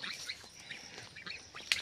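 Ducklings in a Sundarbans village give faint, scattered high peeps and quacks from some distance, quiet and unaccompanied by talk.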